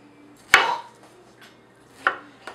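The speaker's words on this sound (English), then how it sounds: "And then I'm going to cut them into equal pieces." A knife chops beets into equal pieces on a board for pickling, with a few sharp separate cuts at a close distance and quiet pauses between them.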